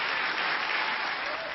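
Warm applause from an audience after a personal testimony at a public event, a continuous, evenly dense clapping that holds steady from start to finish without a break.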